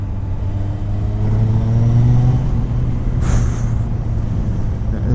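A motorcycle with its air filter and PAIR system removed, fitted with a clean air mod, runs steadily while ridden. The close engine drone carries audible intake noise, rises slightly, then settles under a constant wind rumble.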